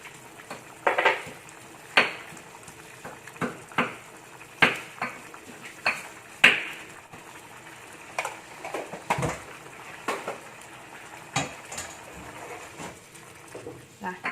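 Shredded chicken with galangal spices, salt and pepper being stirred in a pan, with repeated clinks and scrapes of a utensil against the pan at an uneven rhythm over a soft background and occasional faint voice.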